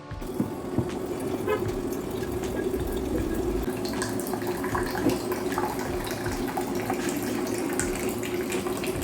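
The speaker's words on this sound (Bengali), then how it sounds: "লাস্টে মাটির ঘরটা ভরা বাকি আছে এটা ভরে নিলেই ব্যাস আমার জল ভরাও কমপ্লিট" Steady rushing of water poured to fill a clay pot in a home kitchen, continuous and fairly loud throughout with no talk.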